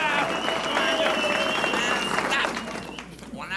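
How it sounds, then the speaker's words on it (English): A large audience claps loudly together in a dense, sustained burst that eases off slightly toward the end, with a few voices and whoops mixed in. "Okay, everybody clap real loud again."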